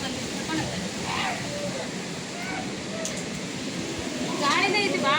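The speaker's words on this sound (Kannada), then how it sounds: "ಗಾಳಿ ಹೆಂಗೆ ಬಿಟ್ಟೈತೆ ಅಂದ್ರೆ ನೋಡ್ರಿ" Strong wind sweeps through an outdoor spot as rain comes on, a steady broadband roar that swells and gusts, with a voice talking faintly beneath it.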